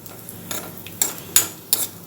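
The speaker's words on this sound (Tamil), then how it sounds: "நெய் காஞ்சோடனே முந்திரி போட்டு வறுத்து எடுத்துக்கலாம்" Cashews frying in ghee on a hot tawa give a soft, low sizzle broken by a few sharp clicks and scrapes of a spoon against the metal, close by, with no voices.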